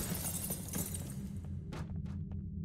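A scripted glass-breaking effect in the horror game Obscure: a loud crashing shatter followed by a few short, sharp tinkling fragments falling and clinking in the background, with no speech.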